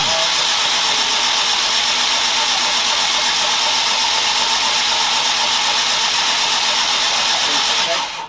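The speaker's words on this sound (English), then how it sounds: "because it's not been run for ages, we're going to chuck it over with no plugs in it and get some oil pressure" A Ford Escort Mexico engine, long unused, spins over on the starter with its spark plugs removed to build oil pressure. It makes a steady, loud whirring drone that runs unbroken for about eight seconds and then stops.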